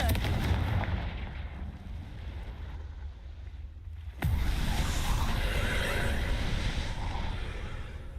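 Confringo fire spell explosion in a Harry Potter video game: a sudden loud blast cuts in partway through, followed by a sustained roaring, crackling wash of noise after a quieter rumbling stretch.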